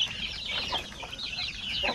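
Shamo and native chickens, including chicks, cluck and peep busily in a pen, a dense overlapping chorus of soft calls with a few louder clucks close by.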